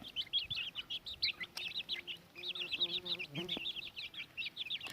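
Chickens in a coop keep up a busy run of high clucks and chirpy calls throughout, with a few low thumps and a brief voice underneath.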